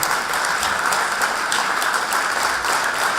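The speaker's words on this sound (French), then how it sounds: "So I would like to finish this thing by some applause," Wedding guests applauding during the speeches, a close, sustained round of brisk clapping from a roomful of people.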